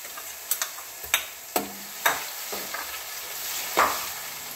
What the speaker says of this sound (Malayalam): ഇഞ്ചിയുടെ ആ കുത്തൽ മാറി വരുന്നത് വരെ നമ്മൾ മൂപ്പിച്ചു കൊടുക്കണം